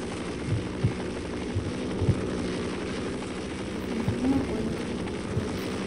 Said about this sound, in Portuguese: olha o helicóptero